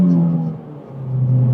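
A car fitted with an aftermarket intake accelerates through a short pull, its close, steady engine drone easing slightly in the middle before swelling louder again.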